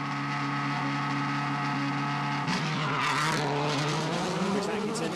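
A Subaru rally car launches into stage one, its engine note rising and falling through gears with a squeal of tyres, loud and close throughout.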